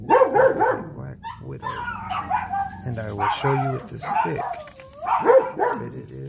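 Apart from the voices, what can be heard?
dog barking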